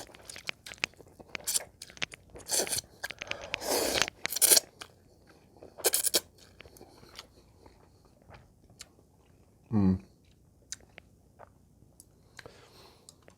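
Thin Indomie Special Chicken instant noodles, cooked for three minutes, crunched and chewed up close in several bursts of bites, with a louder chomp near the end and quiet gaps between.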